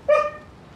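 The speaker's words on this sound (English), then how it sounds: "And if you hear my dog barking once again" A single short, sharp dog bark in the Call of Duty: Modern Warfare 2019 video game, close and clear, fading quickly into quiet.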